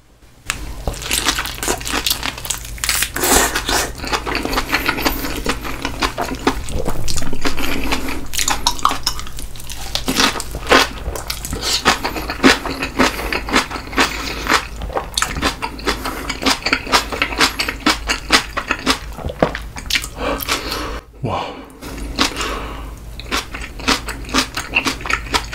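Crunchy, very spicy kimchi is chewed close up in a Korean eating session, with repeated wet crunches and bites alongside clinks of dishes and cutlery, no speech.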